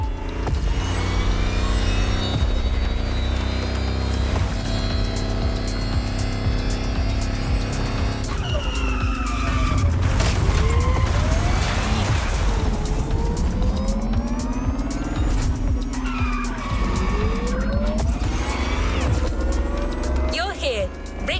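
Ferrari 308 GTS in The Crew Motorfest cruising Hawaiian roads, its engine a steady loud drone with rising and falling pitch sweeps as it shifts through gears, plus brief tire squeal, with music or voices layered underneath.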